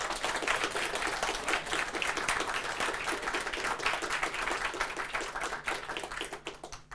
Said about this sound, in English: Guys, please, big applause for Tomek.